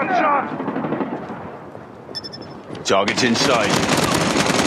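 Gunfire in the mobile shooter Call of Duty Mobile rattles in dense bursts beneath radio-style callouts, with a sharp volley breaking out near the end.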